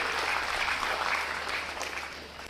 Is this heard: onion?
no